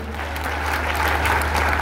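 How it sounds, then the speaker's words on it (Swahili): Steady, dense applause from a crowd honouring a governor at a memorial service, continuous clapping with no pauses. "Mpigieni gavana makofi."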